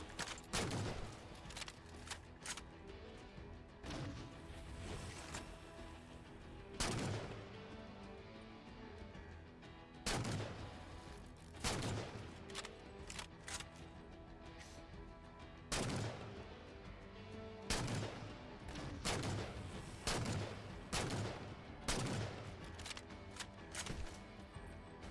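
Video game gunfire: repeated loud bursts of shots fired in irregular clusters, each crack sharp and close, with quieter game noise between them.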